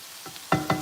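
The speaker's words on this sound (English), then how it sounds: "the oil popping at me, so that's why I'm closer" Hot oil pops and sizzles around meatballs frying in a pan, a low hiss broken by three sharp, loud crackles in quick succession.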